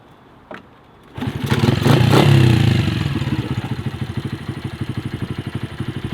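A 1992 Honda Monkey Baja motorcycle starts up after a brief click, its small engine swelling loudly and then settling into a rhythmic, pulsing putter as it pulls away nearby, with no talk.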